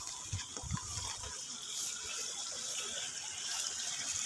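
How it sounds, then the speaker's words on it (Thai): Rainwater flowing through a farm garden after rain, a steady close rush and trickle of running water with a few low thumps at the start, alone without talk. "นี่ครับเสียงน้ำ"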